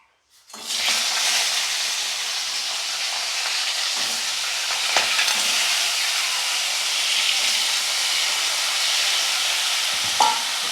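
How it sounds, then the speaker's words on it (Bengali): Crab legs frying in a pan for crab bhuna: a loud sizzle bursts in and holds as a steady, close hiss with occasional stirring knocks throughout. "এই পাগুলোকে আগে দিয়ে ওর মতো দিয়ে ভালো করে এটাকে ভেজে নেব"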